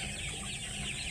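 Thirty-day-old chickens on a poultry farm cluck busily and continuously at close range, with no voices over them.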